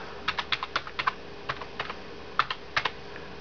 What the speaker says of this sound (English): Type in our password, LinuxCNC,